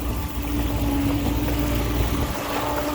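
A Grady-White Patrol motorboat passes close by, its engine droning steadily with a low hum over wind and lapping water.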